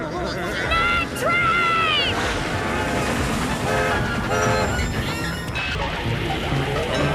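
A night train arrives in a SpongeBob cartoon episode, with loud rumbling rail noise, a horn-like toot near the start and clattering crashes, while a voice talks over the sound.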